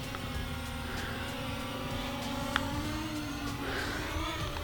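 An AOSENMA CG035 brushless GPS camera drone with gimbal climbs by itself in follow-me mode outdoors, giving a steady whirring propeller drone at moderate distance under broad wind-like background noise, with no talking.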